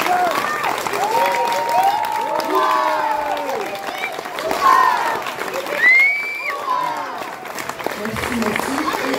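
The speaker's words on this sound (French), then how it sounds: "Encore des applaudissements." Audience applause after an amateur theatre company's performance of La Femme du boulanger, with clapping and cheers mixed under lively crowd chatter and voices throughout, rising in bursts rather than a steady wall of clapping.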